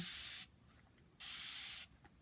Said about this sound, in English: taking some distilled water and spraying it in there